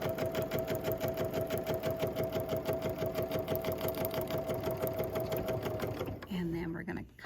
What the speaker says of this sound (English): we're just going to sew all the way down the line